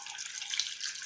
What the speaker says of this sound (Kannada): ನಾ ಈಗ ಇದಕ್ಕೊಂಚೂರು ನೀರು ಸೇರಿಸ್ಕೊತೀನಿ